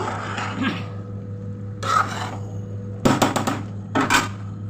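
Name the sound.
stirring lentils and rice with spices in a cooking pot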